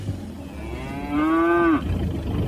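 A single cow moos, long and loud with a clear rising-then-steady tone, over quiet outdoor background as a radio-drama sound effect on a fen road.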